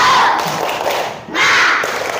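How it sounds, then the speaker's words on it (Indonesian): A classroom of students performs the tepuk semangat rhythmic clapping chant, a loud, dense burst of many hands and voices together that dips briefly near the middle before surging again. "tepuk semangat."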